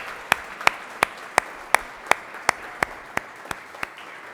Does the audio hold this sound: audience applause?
yes